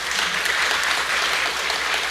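Audience applause at a Korean church testimony gathering, dense sustained clapping from many hands filling the room, steady and fairly loud throughout with no talking over it.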